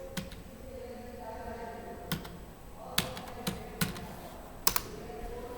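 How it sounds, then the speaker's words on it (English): Someone types on a computer keyboard, a few sparse, close, sharp key taps spread out over a quiet room hum, with no talking. "press Window plus R key to open run command and type Access"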